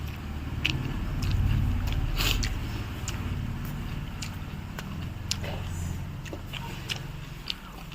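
Someone eats rice with dal and jute leaves, with close chewing and biting clicks scattered over a constant low rumble and faint murmuring in the background.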